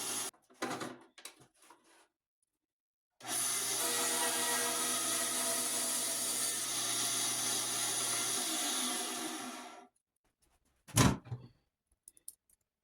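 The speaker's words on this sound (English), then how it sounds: "the holes I'm going to drill now" A steady whirring power drill bores holes in wood for a 100-year-old Wurlitzer windchest, running continuously for several seconds, close and loud, preceded by brief handling knocks and followed by a single sharp clunk.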